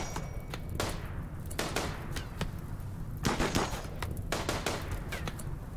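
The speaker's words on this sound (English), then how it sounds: "start shooting" Colonists shooting in Rimworld, a rapid scatter of sharp gunshots and short bursts, irregular and overlapping, some clustered volleys, moderately loud and without talk.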